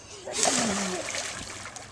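Child splashing and kicking in a swimming pool, one burst of water splatter and sloshing that trails off, close by, with an adult voice over it.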